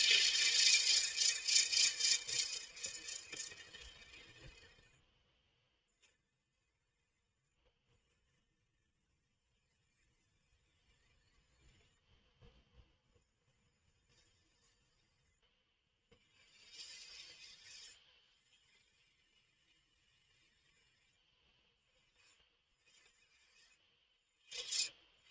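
Sandpaper, starting at 100 grit, rasps against wood spinning on a lathe at about 875 RPM, a close hissing scrape for the first few seconds that fades out, then returns in brief, quieter bursts amid long near-silent gaps.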